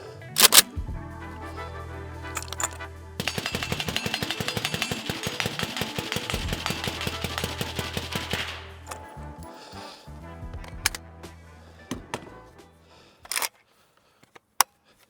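An Arsenal SLR104UR rifle fires a long full-auto burst through a PUTNIK suppressor, a dense rapid clatter of shots lasting several seconds, set between a few isolated shots and mechanical clicks.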